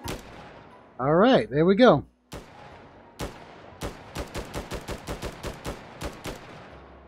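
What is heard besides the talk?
semi-auto gun firing in the VR game Hot Dogs, Horseshoes & Hand Grenades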